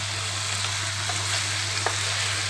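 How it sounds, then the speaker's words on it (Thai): Onions stir-fried in a pan give a steady close sizzle with faint scraping stir noises, no talking. "เรา ผัดหัวหอม หอมหอมเหลืองงก็ใช้ได้เลยนะจ๊ะ"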